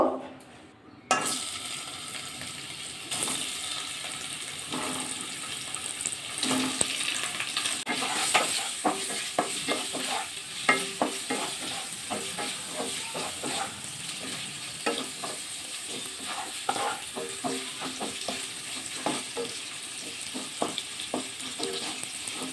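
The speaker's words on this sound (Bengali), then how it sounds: "এবার পনিরগুলো ভাজা করে নেব।" Paneer cubes frying in hot oil seasoned with salt and turmeric, a steady sizzle throughout with repeated clinks and scrapes of a spatula stirring against the pan, close up and without voices.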